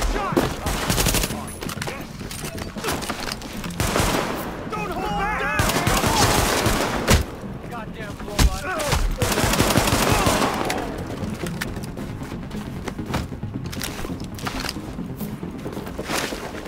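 Gunfights in Tom Clancy's The Division on PC: loud bursts of automatic gunfire and single shots crack in irregular volleys, with a steady rumble of background noise between them.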